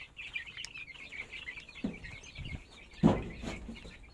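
Japanese Shamo and Basilan giant breed chicks cheeping and clucking in a steady high chatter, with a few soft thumps and a brief flutter near the end.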